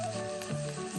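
Food frying in a pan with a steady, close sizzle over the whole short moment, with no voices.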